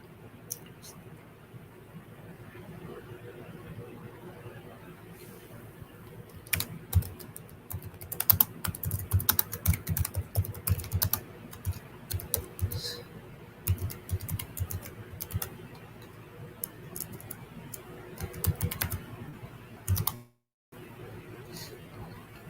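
Steady typing on a computer keyboard, near and clicky, in quick bursts over a quiet room, with occasional soft speech mixed in before the keys go silent near the end.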